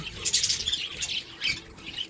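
Caged budgerigars on a bird farm keep up a dense, shrill chatter of overlapping squawks and chirps, steady and near, with no voices over it.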